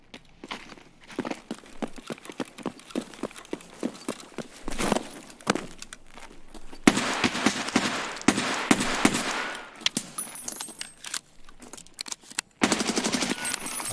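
Gunfire in Escape from Tarkov, rapid bursts of shots in quick irregular runs mixed with footsteps and movement, some volleys close and loud, others more distant.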